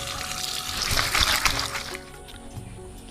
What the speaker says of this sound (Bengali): এবারে মাছগুলোকে পরিষ্কার করে ধুয়ে নেব।